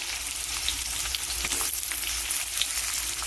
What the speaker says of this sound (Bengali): এবার এর মধ্যে আমি কেটে রাখা আলুগুলোকে দিয়ে দিচ্ছি